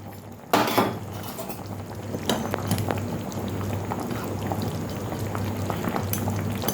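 Chicken stew simmers in a covered pot, a steady bubbling boil with occasional clinks and rattles of the lid or utensils, close and continuous.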